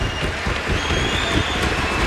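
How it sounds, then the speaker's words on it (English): A hockey crowd applauds at the Air Canada Centre during an IIHF World Juniors game between Russia and Switzerland, a steady dense wash of clapping filling the arena with no break. "a nice round of applause from the crowd here at Air Canada Center"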